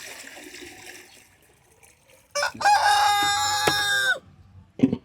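A rooster crows loudly nearby, followed by a brief cluck, with faint background chicken sounds and rustling beforehand.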